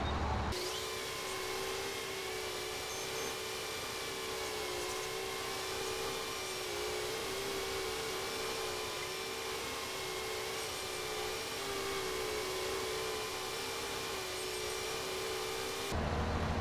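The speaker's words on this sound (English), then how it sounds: "Back to mowing." A mowing machine works a field in Farming Simulator 22, giving off a steady, even mechanical drone that holds for the whole stretch with no talk over it.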